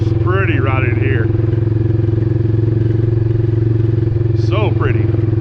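A four-wheeler ATV engine drones steadily and loudly throughout while riding on a woodland trail, with a voice and other talk breaking in briefly near the start and end.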